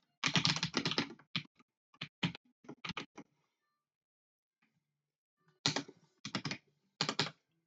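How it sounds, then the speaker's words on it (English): Code typed on a computer keyboard in quick bursts of close, crisp key clicks separated by short pauses, alone without talk. "Let's just type it out."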